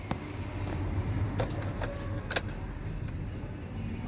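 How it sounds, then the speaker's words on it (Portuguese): A key turns in the ignition of an Iveco 35S14 van and the keys jangle against each other, with several bright metallic clinks over a steady low hum, close and fairly quiet, with no talk. "Ligando a ignição."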